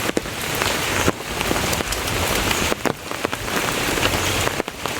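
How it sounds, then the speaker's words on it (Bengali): Steady rain pouring on a roadside, loud and close, a dense continuous hiss with scattered sharper drops hitting nearby surfaces, no voices. "সকাল থেকে কিন্তু বৃষ্টি হয়েই যাচ্ছে।"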